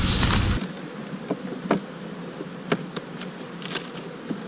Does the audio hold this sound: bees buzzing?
yes